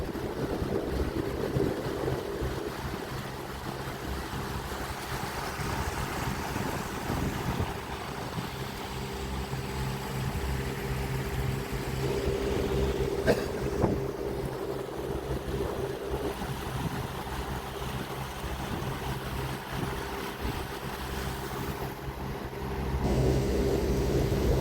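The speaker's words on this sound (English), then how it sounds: "Barge coming through the lock." A barge moving through the lock at Wheeler Dam, heard as a steady low engine rumble and drone under wind noise and rushing water, continuous and fairly distant throughout.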